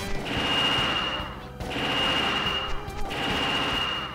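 An enemy fires rapid gunshots in Lupin the Third: Treasure of the Sorcerer King, sounding as three dense, loud bursts of automatic fire separated by brief pauses.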